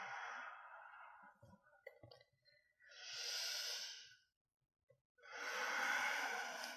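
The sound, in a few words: long breath during yoga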